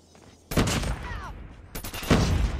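Rifle gunfire in Call of Duty Mobile, a Krig 6 with a skin firing through a wall: two short loud bursts of rapid shots split by a brief pause, with faint game noise between them.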